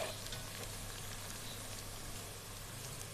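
A soft, steady sizzle of frying in a pan for chole bhature, with faint stirring scrapes, quiet and continuous without talk.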